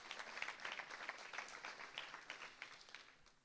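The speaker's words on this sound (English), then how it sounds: "Can we have a round of applause?" An audience at an agile talk gives a round of applause, a soft, continuous patter of many hands that sounds distant and fades slightly toward the end, with no talking.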